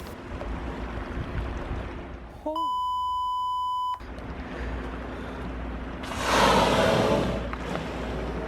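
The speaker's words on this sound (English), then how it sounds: "I have to bleep out some language." A single steady censorship bleep tone lasting about a second and a half covers swearing aboard a Nordhavn 55 motor yacht near whales, with wind and water noise around it and a swell of rushing air afterward.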